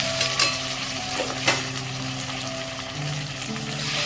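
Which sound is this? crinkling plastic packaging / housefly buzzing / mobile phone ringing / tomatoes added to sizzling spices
tomatoes added to sizzling spices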